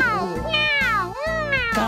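An actor in a theatre play voices an angry cat, giving a run of drawn-out, wavering meows and yowls, loud and close, in a continuous vocal imitation of the animal.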